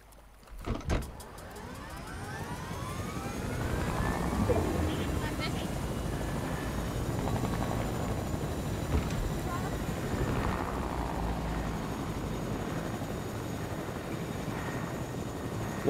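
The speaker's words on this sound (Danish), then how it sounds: "Okay, Magnus, skal vi tage helikopteren?" A helicopter in a video game drones steadily, its rotor and engine noise rising after a couple of seconds and holding as a continuous rumbling whir, with a voice talking over it.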